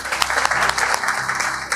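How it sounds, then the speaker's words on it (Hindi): Students in a gurukul hostel classroom break into a quick round of applause, dense close clapping with sharp individual claps standing out over just under two seconds. "ताली हो जाए"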